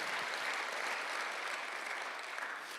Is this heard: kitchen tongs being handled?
no